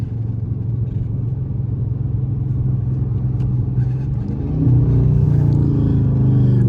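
A Dodge Charger with a loud exhaust rumbles along in evening traffic, a steady low drone heard from inside the car that swells slightly louder partway through as it picks up speed, with no talking.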